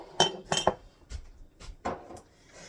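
Clinks and clatter of metal and glass as a can of home canned mushrooms is tipped into a cooking pot of goulash, a few sharp knocks close by followed by softer scraping, no talking.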